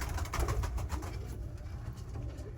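Black Polish feather-footed pigeons coo close by in a steady, low, throaty stream of overlapping calls, with no talking.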